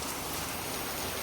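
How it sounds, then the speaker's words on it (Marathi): Heavy rain with big drops pours down steadily, a dense, even wash of close rainfall with no voices. "जोरात आहे पाऊस मस्त."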